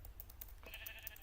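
A Minecraft sheep gives a short, quiet bleat, a single wavering call close by over faint game background sound.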